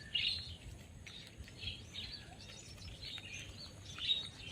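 Parrots call faintly in the trees of an organic farm in Singapore, near a large cotton tree, giving scattered high chirps and squawks over a low, hazy outdoor background.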